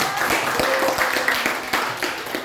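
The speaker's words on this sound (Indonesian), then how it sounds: "Tepuk tangan dong buat Alga." An audience claps for Alga at an indoor gathering, a dense, steady crackle of many hands with sharper individual claps standing out, fairly loud and close throughout.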